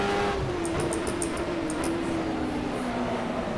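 750-horsepower Superleague Formula race car at Donington in a racing game, a steady high engine drone with a slowly falling pitch, heard alone and moderately loud.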